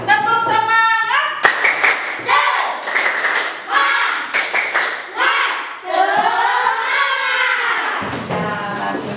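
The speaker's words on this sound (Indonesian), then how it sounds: "Tepuk semangat." A class of children repeats the 'tepuk semangat' clapping chant, crisp rhythmic claps and thumps punctuating loud group chanting, close by in a classroom.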